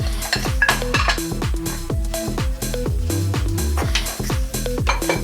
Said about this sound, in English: They all go in together and we'll sift them as well.